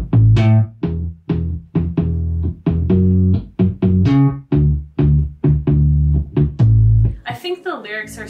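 Three bass tracks stacked together in a mix, a clean sub bass under a percussive slap bass, playing a punchy rhythmic line of repeated plucked notes, loud and close, with a brief burst of higher tones at the end.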